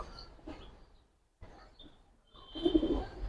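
Giribaz and coloured pigeons cooing in a small group, soft low coos that grow fuller and louder toward the end, with quiet gaps and faint chirps between.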